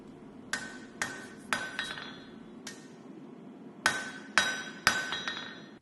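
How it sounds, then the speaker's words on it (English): Hammer blows forging the tang of a steel bowie knife blank, ringing metallic strikes landing in irregular clusters of two or three with pauses between, loud and close with no talk. "And then forge the rest of the tang."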